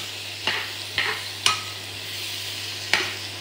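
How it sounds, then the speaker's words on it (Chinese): Egg fried rice is stir-fried in a wok, with a soft continuous sizzle broken by several sharp scraping clacks of the spatula against the metal, spaced about half a second to a second and a half apart. "你帮我串一下锅，一会儿锅烧焦了。"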